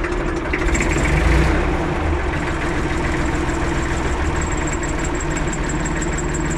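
An IMT 539 tractor with a fault idles close by, a loud, steady diesel chugging with a rhythmic knock and a faint high whine that runs throughout, with no talking.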